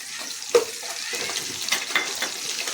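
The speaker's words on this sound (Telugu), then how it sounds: "ఇప్పుడు కరివేపాకు కూడా వేసుకున్నాం. కరివేపాకు కూడా కొంచెం ఫ్రై చేసుకొని" Cashews, chana dal and curry leaves fry in oil in a pan, making a close, crackling sizzle with a sharp pop and light stirring scrapes.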